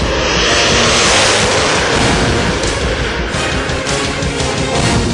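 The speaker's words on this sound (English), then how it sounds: "The Sukhoi 30 MKI is every fighter pilot's dream machine." A Sukhoi Su-30MKI fighter jet of the Indian Air Force flies by with a loud, continuous jet roar and broad rushing noise that stays steady and powerful throughout, with no voices.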